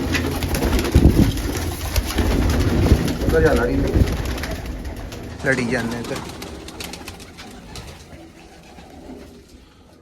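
Several pigeons coo and burble close by as people talk over them while the pigeons are given water, the cooing fading toward the end.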